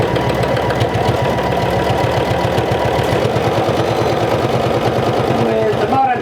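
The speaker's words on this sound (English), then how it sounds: "And now I'll just sew all around." A sewing machine stitches around a vintage jumper, its motor humming steadily with a rapid, even rattle of the needle that runs without pause before slowing at the very end.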